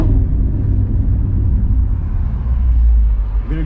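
A Ford GT350 pulls away on a drive, its deep, loud engine rumble filling the cabin with a continuous low roar that rises and surges toward the end.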